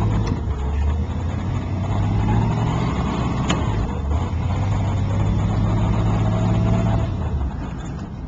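A pink 1956 Cadillac DeVille on a test drive gives a steady low engine rumble and road noise from inside the car, fairly loud and continuous, with a mild rise in revs partway through and no talk.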